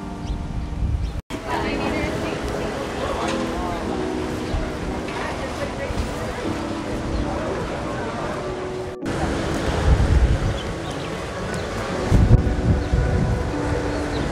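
Ocean waves at Napili Beach on Maui wash and rush in a steady, fairly loud roar, swelling now and then, while people talk over the surf.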